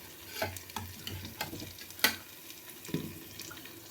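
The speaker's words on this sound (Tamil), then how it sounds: "இப்போ மட்டன் வந்து கொஞ்சம் கொஞ்சமாக அதில் போட்டுடலாம்" Mutton pieces added gradually to a pan of ginger-garlic masala and stirred, giving spaced scraping stirs and soft sizzling bursts, with one sharp clatter midway; close and moderately loud, no talking.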